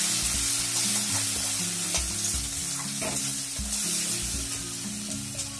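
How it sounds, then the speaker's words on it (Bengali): Sliced onions frying in a little oil with bay leaf and five-spice in a pan for a Bengali-style fish curry give a steady, close sizzle with stirring scrapes throughout, over a low tonal background hum. "তাই আমি ভালো করে ভেজে নেব পেঁয়াজগুলো।"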